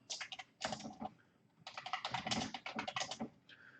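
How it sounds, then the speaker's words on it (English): Rapid typing on a computer keyboard, a steady run of close, crisp keystrokes in two bursts separated by a short pause, with no voices. "I'll go ahead and type them in"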